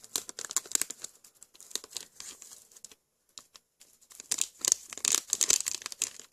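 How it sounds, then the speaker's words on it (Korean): A plastic wrapper crinkles and rustles right at the microphone while a mochi soda treat is being made, in sharp crackling bursts broken by a brief pause midway. "비닐 소리 양해 부탁드릴게요"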